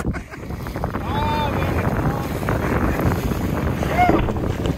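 Strong wind buffets the microphone on a boat during pike fly fishing off Rügen, a constant rough roar with water sloshing, close and loud throughout, with brief squeaky tones.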